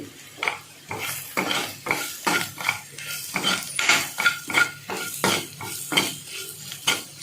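A utensil scrapes and clinks repeatedly against a pan while chili powder, coriander, cumin, turmeric and paste are stirred together over a soft sizzle, in a quick uneven rhythm.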